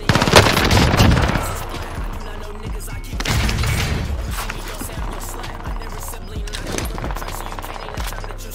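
STG 44 assault rifle fire in the shooter game Warzone: loud bursts of rapid gunshots with sharp reports, some heavy impacts, continuing in clustered volleys throughout.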